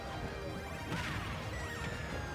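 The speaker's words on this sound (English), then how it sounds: "Dura F smashing trampoline." Pac-Man lands a forward smash with a trampoline in a Super Smash Bros tournament match, giving a loud crash with whooshing impact effects over dense, continuous game sound.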